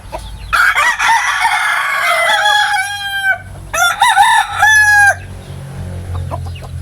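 A labuyo rooster crows loudly and close by, two long strained calls in quick succession, followed by quieter background clucking.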